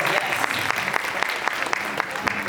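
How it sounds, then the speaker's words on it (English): A crowd at a stage event honouring long-married couples keeps up steady applause, many hands clapping densely, while a voice speaks over it. "Come on, bigger round of applause."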